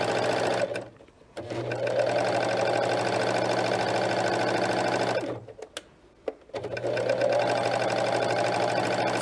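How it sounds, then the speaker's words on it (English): A serger sewing machine stitches stretched fabric in two long, steady runs of fast rhythmic whirring, briefly pausing around the middle before starting up again, close and clear. "It's amazing what sergers can do"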